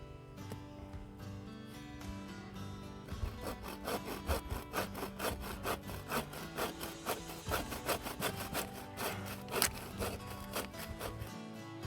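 Firewood being cut with a hand saw at a snowy winter hot-tent camp: steady back-and-forth rasping strokes, close and moderately loud, keeping a regular rhythm for most of the stretch.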